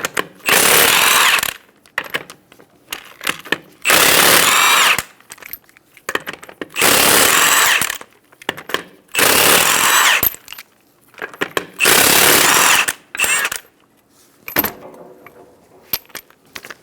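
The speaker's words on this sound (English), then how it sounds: "Using a 19mm socket, remove the 5 lug nuts." A power tool with a 19mm socket spins off the five wheel lug nuts of a Subaru Outback, five loud, close rattling bursts of about a second each, separated by pauses with jingling nuts and handling noise.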